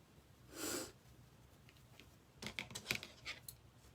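Scissors snipping through Christmas deco mesh for a farm sign wreath, a brief cluster of several crisp cuts late on, after a short breathy rustle and an otherwise quiet room.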